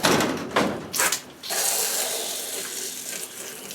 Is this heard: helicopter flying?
no